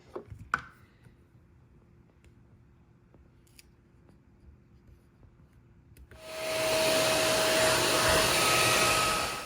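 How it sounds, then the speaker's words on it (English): A vacuum cleaner switches on to clean a workspace where an RC4WD K10 Scottsdale model truck is being built, a loud steady whine and roar after several seconds of quiet small clicks and handling noises. "you saw me vacuuming there"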